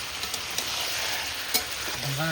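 Desi chicken kosha fries and is stirred in oil, a close, continuous sizzle with scraping stir strokes and small clicks of a spoon.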